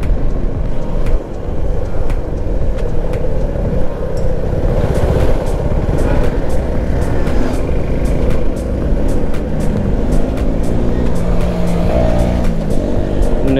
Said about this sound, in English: A full traffic jam, and this just continues.